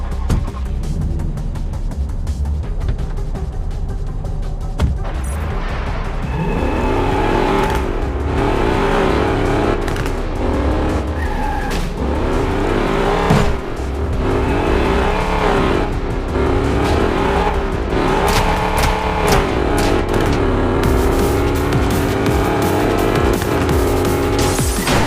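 Car in the video game Gangster Mirage City driving and accelerating, a loud continuous engine roar that rises and revs throughout with game music and effects layered over it.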